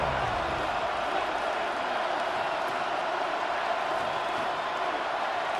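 Steady, dense roar of a simulated stadium crowd in the Madden NFL 26 football video game during an Eagles vs. Cowboys matchup, a continuous wash of cheering noise at even loudness with no pauses.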